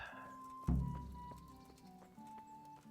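Horse hooves in the video game Kingdom Come: Deliverance, faint clip-clop steps with one sharp thud near the start, then softer hoofbeats trailing off, quiet and distant-sounding.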